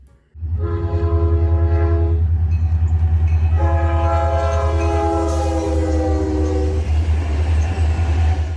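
A Canadian National freight locomotive hauling iron ore: deep diesel rumble runs throughout while its horn sounds two long, loud blasts, close by.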